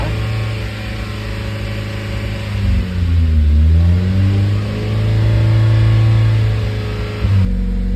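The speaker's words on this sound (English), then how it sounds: "Let's see if I can catch this idle flutter that it's doing." Mazda Miata engine idling close by with a fluttering rpm, the pitch sagging and climbing back in slow waves over several seconds, steady and loud with no talk.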